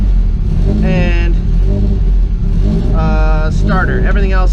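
A car engine idles low and rumbles steadily, loud and close, while someone talks over it throughout.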